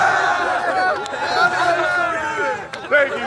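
A crowd at a live freestyle rap show in Hawaii cheers and shouts, a dense wash of many voices with excited whoops rising and falling, close and loud, with a few sharp claps.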